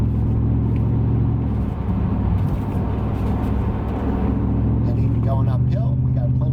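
A 1994 Mercedes E500 climbs a hill through a series of turns, its engine giving a steady low rumble and road noise from inside the cabin, with someone talking over it.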